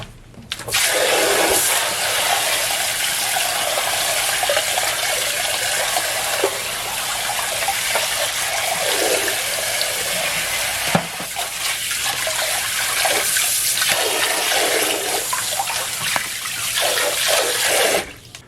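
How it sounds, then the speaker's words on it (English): Mitsubishi mini-split AC filters are rinsed under running tap water, a loud, steady gushing and splashing stream that runs almost continuously, with brief changes as the filters shift under the flow. "I'm going to rinse these things off."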